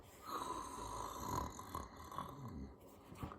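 A storyteller imitates a roomful of people snoring, drawing out slow, rasping, nasal breaths that rise and fall in a quiet, close voice.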